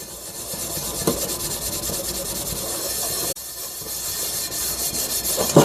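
Steady, rough scrubbing of stainless steel or cast iron cookware with Barkeeper's Friend cleanser, a continuous close rasping rub with a brief pause midway and no talking.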